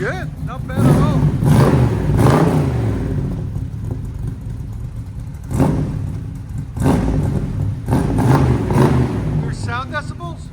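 Deep rumbling idle from a 1966 Chevy Nova II four-door V8 running a true dual 2.5-inch MagnaFlow exhaust, broken by repeated sharp throttle blips and a longer loud rev, all close to the car.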